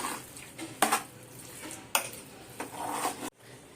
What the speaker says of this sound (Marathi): हे टाकून चांगलं मिक्स करून घेतो